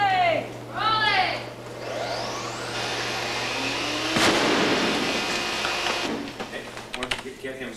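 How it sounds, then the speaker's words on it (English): A pyrotechnic explosion blows apart a breakaway model ship on a film set, bursting and rumbling into a long roaring wash of debris noise, preceded by brief shouts and followed by scattered crackles. "The second explosion is better."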